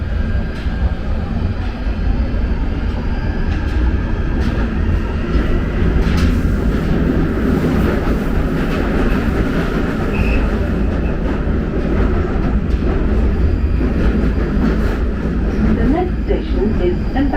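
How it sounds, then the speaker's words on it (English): A London Underground Northern Line train rumbling along, with a steady low roar and rattling carriages, while an announcement voice speaks faintly over the noise. "This is the Northern Line train terminating at Kennington."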